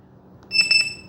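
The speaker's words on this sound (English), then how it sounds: "Now it's beeping." Electronic speed controller in a Durafly EFXtra Racer 975mm model plane beeping after the battery is plugged in at full throttle, a quick run of about three high, close beeps.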